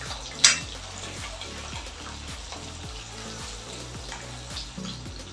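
Small onions (shallots) frying in oil with spices for a spicy brinjal curry, a steady close sizzle with soft stirring clatter and one sharp clink near the start.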